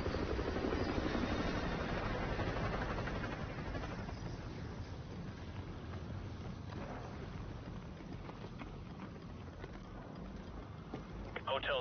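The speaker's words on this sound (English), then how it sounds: "Chopper inbound. Keep low." Helicopter rotor drone from an enemy patrol helicopter circling a perimeter in the Call of Duty: Modern Warfare 2 campaign, a steady wash of rumble and wind that is loudest at the start and then settles, with radio-style voices talking over it.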